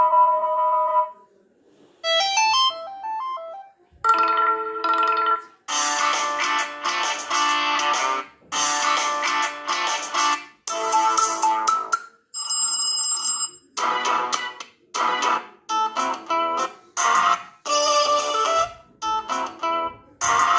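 A Lava Z2 phone plays a string of ringtone previews, about twenty seconds of electronic tunes and ringing melodies in short bursts divided by brief gaps. The sound is clear and close, with no talking.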